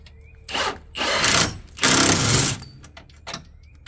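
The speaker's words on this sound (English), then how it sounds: "we're welding it with a Harbor Freight flux core welder" A Harbor Freight flux core welder lays welds on an '06 Ford Ranger in three loud, close bursts of harsh crackling buzz, each under a second and a half, separated by brief quiet gaps.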